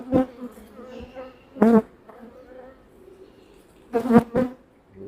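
Honey bees buzzing inside an opened hive during an inspection: a steady low drone with several louder, close swells as bees pass near, no voices.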